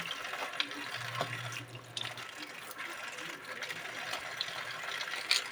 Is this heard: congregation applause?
no